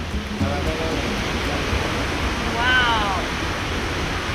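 Waterfall in a natural landscape with many cascades, a steady broadband rush of falling water filling the scene, with a brief exclamation from a person over it.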